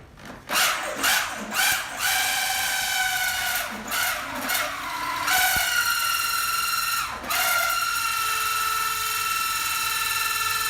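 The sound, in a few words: drill boring a hole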